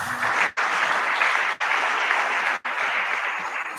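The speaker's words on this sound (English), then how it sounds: "Was that clap enough?" Audience applause at the PEAS Uganda Education Conference 2022, given for a minister's representative: steady, full-room clapping, briefly cut off three times, with no talking over it.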